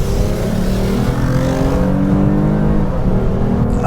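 A 2015 Lexus IS 350 F Sport with sport exhaust launching hard from a standstill, loud and close, its engine note climbing steadily through the revs with no pause for about four seconds.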